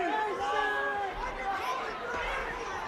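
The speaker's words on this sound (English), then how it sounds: "The only thing that you can hear in the venue right now is the Iowa bench" The Iowa wrestling bench shouts during a Nebraska vs Iowa men's college dual in an otherwise hushed arena, with several overlapping voices yelling at moderate distance.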